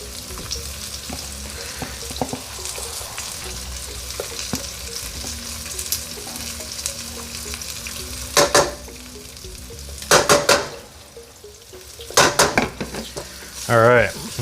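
Beef stir-frying in oil in a pan gives a steady close sizzle, punctuated by scraping and clattering as a utensil stirs and breaks up the meat.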